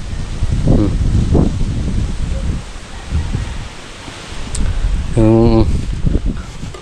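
Strong typhoon wind roars and rustles through the open air outdoors, gusting in broad waves with rustling leaves, while a voice speaks briefly in the foreground.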